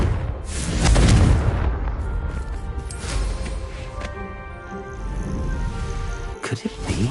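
A Confringo spell in the Hogwarts video game bursts with a loud, booming explosion, followed by rumbling crackle and fading debris noise.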